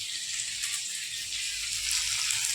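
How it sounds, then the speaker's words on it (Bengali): Spices sizzle and fry steadily in a pan as the masala for aloo dum cooks, a continuous close hiss with no talking. "আরেকখানে মশলা কষা হচ্ছে।"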